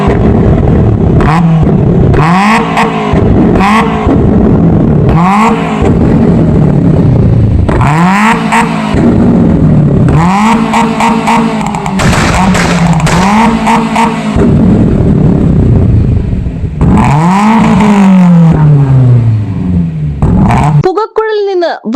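A modified car's engine revs hard in repeated loud bursts, each rising and falling, while its exhaust spits fire with crackling pops, close and deafening throughout.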